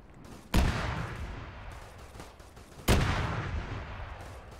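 Arma 3 gunfire with a Warhammer 40K mod during a co-op battle against orcs: two heavy, booming blasts a couple of seconds apart, each trailing off in a long rumbling echo over a continuous din of distant combat.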